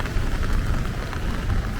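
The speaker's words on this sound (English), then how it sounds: "I don't want to have to get rain on the camera lens." Rain falls steadily on Pitkin Avenue, a city street in Brooklyn, New York, as a loud, dense patter close by, with no talk.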